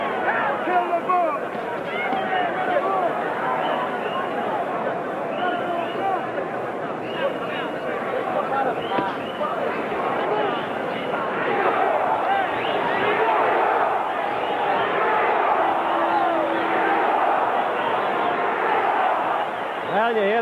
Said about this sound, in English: you hear the crowd picking up the chant for Ringo now